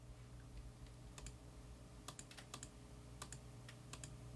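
Quick bursts of computer keyboard typing while a value is entered into an audio plugin, the clicks faint and scattered in small clusters over a steady low hum.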